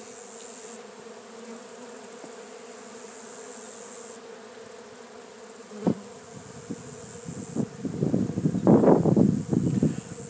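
Close honeybee buzzing at an open feeder drifts in and out over a quiet outdoor background, with a few soft knocks and a louder burst of buzzing toward the end.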